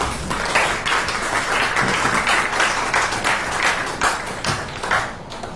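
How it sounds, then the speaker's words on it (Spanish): An audience claps steadily in welcome for a guest speaker at a public-information talk, a dense, sustained patter of many hands close by, with no voices over it. "Recibámoslo, por favor, con un muy fuerte aplauso."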